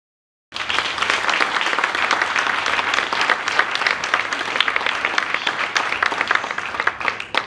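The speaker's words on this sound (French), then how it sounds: "Sous vos applaudissements, mesdames et messieurs," After a half-second of silence, audience applause breaks out at a corporate conference talk and holds as steady, dense clapping for about seven seconds, fairly loud and close, then starts to thin near the end.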